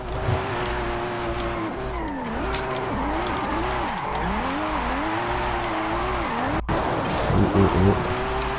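A car drifting in Forza Horizon 5, its engine revving and bogging in continuous rising and falling waves with tire squeal, loud and steady throughout the slide.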